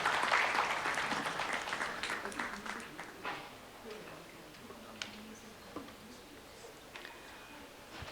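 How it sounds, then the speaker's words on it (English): Applause from a seminar audience on dispute resolution greets a panelist, the head of litigation at a law firm, starting loud and dense, then thinning into scattered claps as it fades. "Let's have a huge round of applause."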